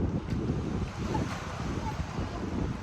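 Ocean waves and gusting wind blend into a steady broadband roar with buffeting on the microphone, loud and continuous throughout with no clear break.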